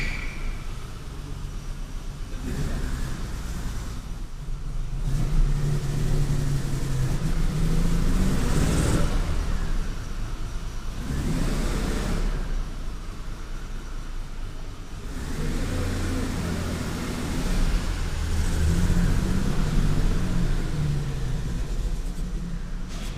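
A BMW E32 sedan drives and revs after a brake overhaul, its engine rumbling and surging in repeated rises and falls over a sustained stretch with road and wind noise, no voices.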